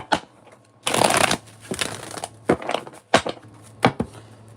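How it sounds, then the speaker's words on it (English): Tarot cards are riffled and bridged close-up in a quick flurry, then tapped and settled with several sharp slaps in a quiet room. "One more shuffle."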